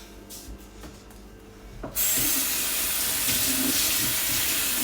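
A tap is turned on and runs loudly into a sink as a cloth is rinsed, a steady close water rush after a few quieter rubbing sounds.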